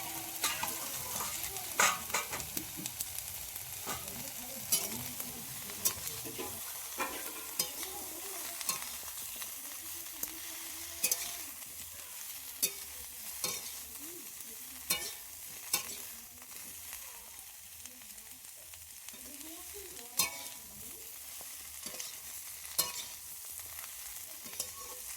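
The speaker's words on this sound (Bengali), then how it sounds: "শাকগুলো ভাজা ভাজা হয়ে গেছে, এবার সমস্ত সবজিগুলো ভেজে রাখা যেগুলো ছিল সেগুলো সবগুলো দিয়ে দেব। দিয়ে একসাথে আবারও ভালো করে নেড়ে নেব।" Bottle gourd greens and fried vegetables are stirred in a hot pan, a soft continuous sizzle broken by regular scraping clicks of the spatula, close and fairly quiet with no talk.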